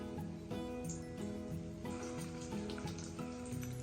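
Steady, dense sizzling of breadfruit frying in hot oil, a continuous crackling hiss with small pops, close and even throughout, no voices.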